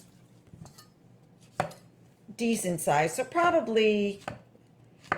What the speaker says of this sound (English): I will chop the zucchini in some pretty